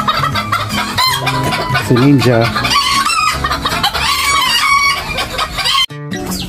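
Chickens cluck and a rooster crows in a backyard coop on a rainy day, a busy, loud mix of overlapping fowl calls close by, with a brief voice and a sudden cut near the end.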